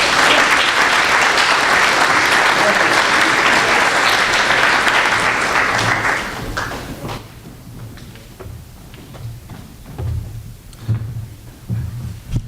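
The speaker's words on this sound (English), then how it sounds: "Give yourselves a round of applause." Loud, sustained applause from a large crowd at a business school scholarship reception fades after several seconds, leaving scattered claps and low rumbling in the room.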